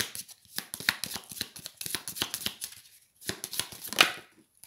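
A tarot deck is handled and a card drawn, with close, crisp papery flicks and rustles in busy bursts, a short pause, then a final flurry.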